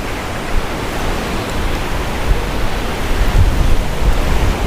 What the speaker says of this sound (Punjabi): ਹੁਣ ਪੂਰੀ ਤੇਜ਼ ਹਵਾ ਚੱਲ ਰਹੀ ਹੈ